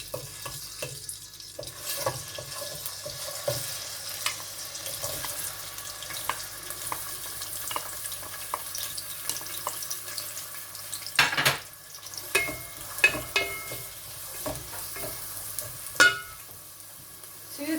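Onions, garlic and two bay leaves frying in a pan for an ilisha fish dish, a close continuous sizzle with scraping stir strokes and a burst of louder crackle and clatter midway, no talk.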